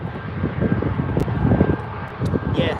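Boeing 737 airliner at Birmingham airport, its jet engines giving a steady rumbling roar with wind buffeting the microphone.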